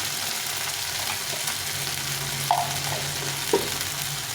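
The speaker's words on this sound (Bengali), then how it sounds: "দিয়ে এটাকে ভালো করে কষিয়ে নিই" Spices with salt and turmeric fry in a pan with a steady, close hiss, broken by a couple of brief stirring scrapes; no talking.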